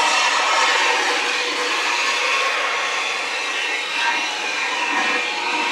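A bottle cleaning machine on a bottle production line in a factory runs with a steady, loud broadband whir and hiss, continuous and close, with no talk.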